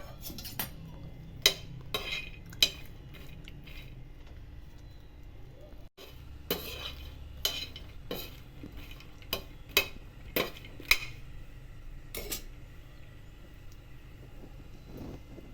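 Makhana (fox nuts) are stirred and roasted in a pan, with sharp, scattered scraping and tapping of a utensil against the pan standing out over a quiet background.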